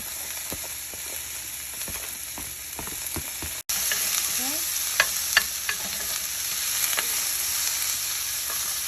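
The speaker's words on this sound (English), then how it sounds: "I'm going to go ahead and add my veggies in. I'll let these cook for about 5 to 7 minutes" Vegetables for turkey fajitas sizzle in a pan of olive oil, a steady close frying hiss broken by scattered pops and the scrape of stirring, with one brief dropout partway through.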